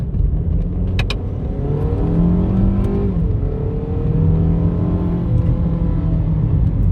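A 2016 Jeep Patriot Sport accelerating in first gear on a street, the engine note rising and falling in a loud steady drone heard from inside the car.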